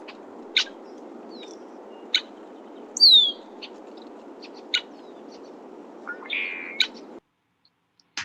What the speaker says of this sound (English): there's a variety of calls that the red-winged blackbird makes, but today we are listening to an alarm call from a male